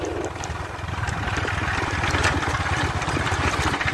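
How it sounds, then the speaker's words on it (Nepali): Motorcycle engine running steadily while riding, a loud continuous low throbbing drone with constant rumble and no voices. "म चाहिँ बाइक कुदाउनुमा व्यस्त छु"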